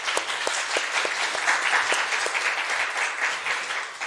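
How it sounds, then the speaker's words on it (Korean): A church congregation applauding during a Sunday service, a crowd of hands clapping in a steady, dense patter with a few sharper individual claps standing out. "2025년을 허락하신 하나님께 영광의 박수 올리십니다."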